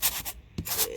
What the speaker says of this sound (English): sanding paper, and what I do is I just take off the outer layer on the rim